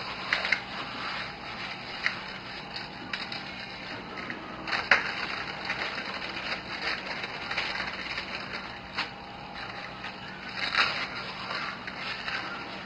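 Crackers, half a pack cut up, crushed by hand for a Cajun hamburger mix, giving a steady crumbling, crunching crackle with sharper snaps near five and eleven seconds, close and continuous, no talk.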